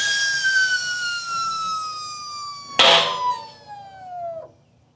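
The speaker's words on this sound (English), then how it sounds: "Time to release the air, fingers crossed." Air rushing out of a Continental Terra Speed gravel bike tyre filled with Orange Seal Endurance sealant, a close whistling hiss that slides downward in pitch, broken by a sharp pop as the bead seats, then trailing off into quiet.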